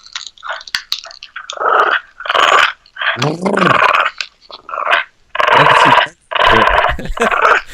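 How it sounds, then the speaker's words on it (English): A dog growls and grumbles in a series of short, close vocal bursts, one ending in a drawn-out yawn, with brief silences between them. "This is just normal dog noises."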